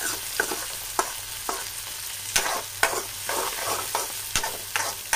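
Chopped tomatoes sizzle and fry in a pan as a pasta sauce base, with repeated sharp scraping stirs cutting through a steady crackle, close and fairly loud, no voices.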